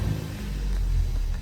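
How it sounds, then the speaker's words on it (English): A Ford Focus ST-3 with a 2.0 turbo engine and about 121,000 miles rumbles steadily at close range after firing up, its low idle drone running loud and even with slight swells. "So go ahead and fire the car up."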